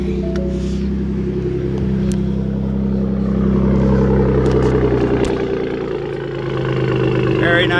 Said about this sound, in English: Let's see if we can fire this bad boy up.